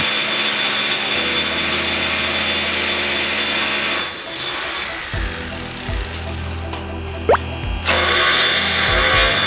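A shear wrench tightens TS bolts on a steel H-beam during renovation of a single-story building. Loud mechanical grinding whirs in close bursts, broken by short pauses and clunks.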